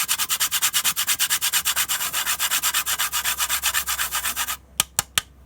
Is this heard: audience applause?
no